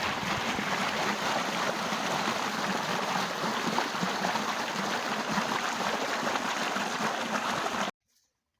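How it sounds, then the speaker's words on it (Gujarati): Irrigation water rushes steadily through an opened channel into a wheat field, a close, continuous broadband flow with no voices that runs for about eight seconds before cutting off abruptly. "આ આપણે ખોલી નાખ્યું છે ને પાણી જાય છે અહીં"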